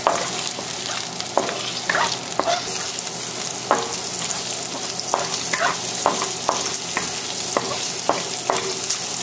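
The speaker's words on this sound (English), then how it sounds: "we're going to cook until the shrimp turns color" Shrimp frying in a hot pan for pad thai, a steady loud sizzle broken by repeated sharp scrapes and clacks of a utensil stirring, with no talking.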